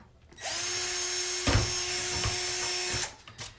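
A power drill whines steadily for about two and a half seconds as it bores holes in wooden tree, star and snowman cutouts, with a few knocks of the bit and handling at the start and end.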